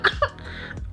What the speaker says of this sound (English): This cough is so bad.